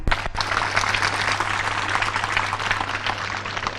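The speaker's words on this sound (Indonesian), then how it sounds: "Tepuk tangan." Audience applause at a public gathering on Bali, a dense steady clapping that starts abruptly and holds at an even level throughout.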